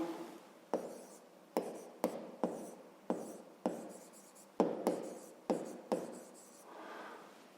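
Pen writing by hand into a cell of a grade 5 maths exercise, heard as a series of short scratchy strokes in quick bursts, close and fairly quiet, with no voices.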